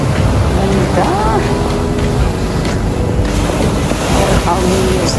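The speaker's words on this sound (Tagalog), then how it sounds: "Ang taas ng alon ngayon, oh." High ocean waves roll onto the beach at San Fabian, Pangasinan, a steady loud surf rush mixed with gusty wind buffeting the microphone, with a voice talking faintly underneath.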